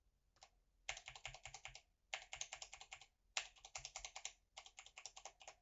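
Typing on a computer keyboard fitted with ABS keycaps: four quick bursts of clacky keystrokes with short pauses between them, close and clear with no talking.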